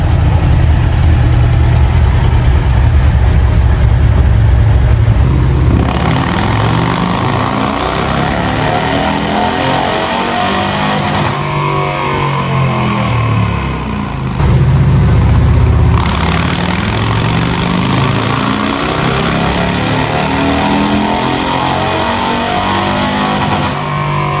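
A 2024 Harley-Davidson CVO ST motorcycle engine runs steadily and loudly close by, with a rough, loping low rumble and slight swells in revs, continuous for about twenty-four seconds with no talking.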